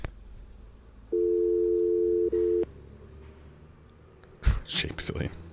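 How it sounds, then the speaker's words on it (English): A telephone line gives a steady dial or ringback tone, briefly interrupted before it stops, then rustling handling noise follows. A phone call is being placed. "I'll be calling phone number"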